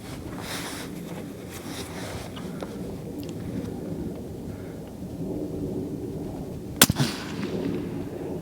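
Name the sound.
long range rifle shot, Creedmoor, hitting steel plate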